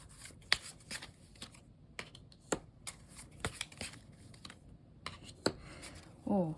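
Tarot cards being shuffled and drawn, with crisp flicks and taps of the cards in an uneven rhythm, and a brief riffle of the deck at the end.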